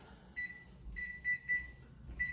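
An oven timer being set for pizza gives a handful of short, thin electronic beeps at a quiet level, spaced unevenly over low background hum.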